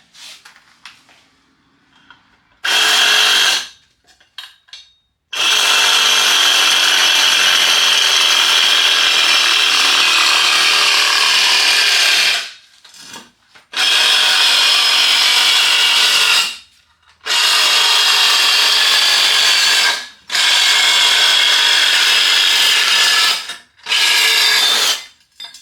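A power cutting tool saws through the old exhaust pipe on a 1972 Chevy C10, loud harsh cutting in several long bursts separated by short silent pauses, close up with no talking.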